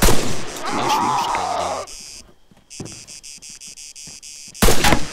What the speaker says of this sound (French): mon 4x4 a explosé